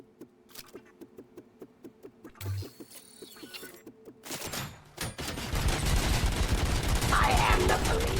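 Rapid gunfire from the RoboCop: Rogue City video game, starting as a regular train of sharp shots, then a burst of heavier fire and a dense, loud roar of shooting and impacts toward the end.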